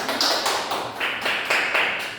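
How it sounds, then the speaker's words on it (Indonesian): A classroom group claps for their classmates in group 3, a dense burst of hand clapping that swells in several waves over about two seconds, fairly close and loud, with no talking. "Kita tepuk tangan dulu untuk kelompok 3."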